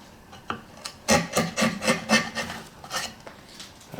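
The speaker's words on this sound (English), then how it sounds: "I'm going to have to use the 1/4 inch chisel" A quarter-inch chisel paring wood for a tapered sliding dovetail, a run of short rasping scrapes in quick rhythm, close and clear with brief pauses, no voices.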